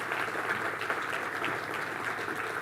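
An audience at a sustainability forum applauds a panel on stage, a steady, fairly even wash of clapping from many hands that holds at moderate loudness throughout, heard from within the hall.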